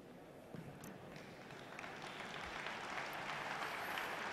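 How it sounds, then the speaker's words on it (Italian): Spectators applaud at a sailing regatta in Alassio, a broad, steady wash of clapping that swells gradually louder over a few seconds, heard from a distance without any voices. "gli applausi crescono"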